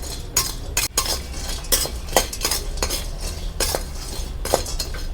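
Dry-roasting 100 grams of turmeric root pieces in a pan for sambar powder, with steady close scraping and clinking as a spatula stirs the pieces without pause, and no voices.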